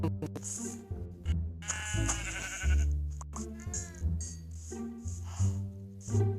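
Sheep bleat repeatedly in Minecraft against a bed of synthetic game music, the calls overlapping the melody.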